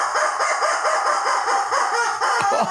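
A rubber chicken squeezed in a rapid series of squawks, about a dozen honking bursts in a steady rhythm, loud and close, with no voices over it.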